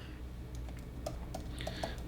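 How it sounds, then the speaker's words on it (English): A computer keyboard gives a handful of scattered keystrokes while CSS code is typed, light and close clicks at an irregular pace, with no talking. "I've got some typing to do here"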